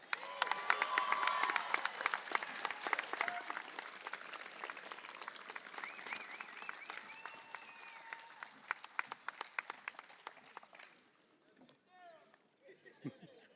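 Audience at a community college commencement applauding a student speaker, dense clapping and some cheering that thins out and trails off into scattered claps, with voices murmuring underneath.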